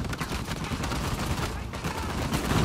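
A turret fires in Uncharted 4, a dense, continuous burst of rapid gunfire that stays loud and steady throughout, with a voice speaking over it.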